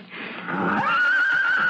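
A blue roan stallion whinnies loudly and close, a single long neigh rising then holding a shrill, wavering tone, heard alone without talk.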